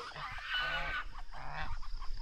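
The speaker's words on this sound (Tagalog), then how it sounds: "Yung gansa yun." A goose honking on a small farm kept alongside turkeys and ducks, a couple of nasal, slightly hoarse honks close by, with faint background bird noise between calls.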